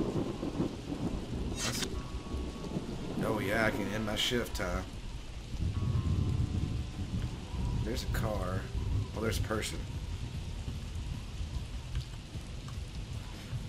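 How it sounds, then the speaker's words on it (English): Steady rain falls in the police video game Enforcer: Police Crime Action, with low rumbling thunder rolling underneath as someone talks over the storm throughout. "Oh, of course it starts raining."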